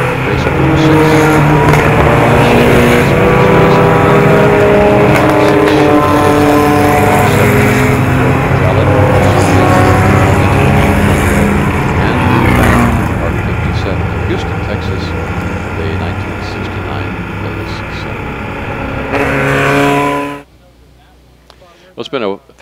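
Vintage sports racing cars, including Formula Junior, roll around on a pace lap at the Pittsburgh Vintage Grand Prix: a loud, continuous engine drone that fades out near the end, with a voice talking over it.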